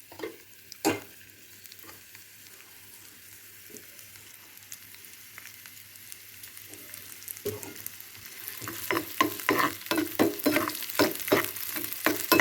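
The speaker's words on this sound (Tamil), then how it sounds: "அதில் கொஞ்சமாக ஆயில் விட்டுட்டு வெங்காயத்தை போட்டு வதக்கிக்கணும்" Onions sautéing in a little oil in a small tempering kadai, a soft sizzle that builds, with a sharp clank early and rapid scraping stirs growing louder and more frequent toward the end.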